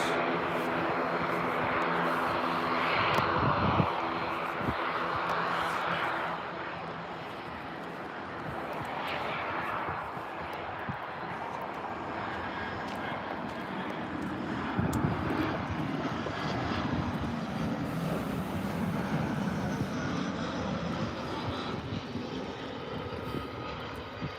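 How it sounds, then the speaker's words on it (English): An EasyJet Airbus A320 airliner lands at Birmingham airport, its jet engine roar loud and sustained throughout, swelling and easing with the approach and touchdown. "No bad landing for the EasyJet there."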